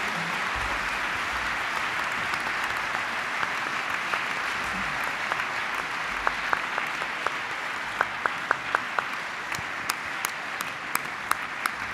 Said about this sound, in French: Sous vos très chaleureux applaudissements,